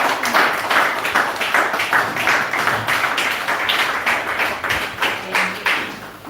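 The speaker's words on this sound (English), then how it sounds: "Please, let's clap for her." Seminar audience clapping for a presenter, a fairly small group with distinct, rhythmic claps at moderate volume, close and continuing for several seconds.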